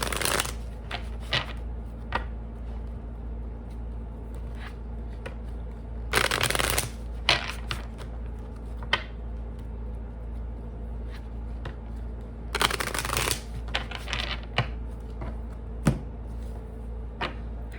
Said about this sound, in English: Have to shuffle these in 2 pieces because I can't do it in one.